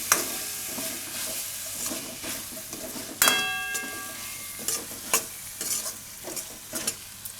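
Corn kernels stirred into masala in a pan: repeated scraping and clattering of a spoon over a soft sizzle, with a sharp metallic clank near the middle and no talking.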